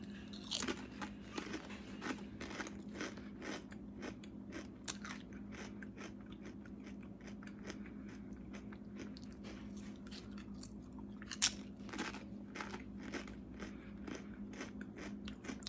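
Close, crisp crunching and chewing of Cool Ranch dill pickle Doritos chips goes on steadily for the whole stretch, with frequent sharp bites over a low background hum and no talking.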